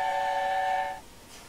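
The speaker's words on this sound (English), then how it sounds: "This is what the whistle sounds." An A4 Bittern steam locomotive in the Train Simulator game sounds its whistle on the Wycombe Branch, one clear, steady chime-like blast lasting about a second before cutting off into quiet background.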